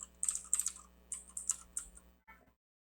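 Rapid typing on a computer keyboard, with clustered key clicks in quick bursts close to the mic, then a few final taps before silence.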